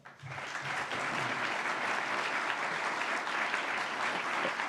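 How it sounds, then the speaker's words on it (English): Enthusiastic applause for a panel swells quickly from an audience and stays full and even, a close, dense patter of many hands clapping. "just one more round of applause for our really terrific panel"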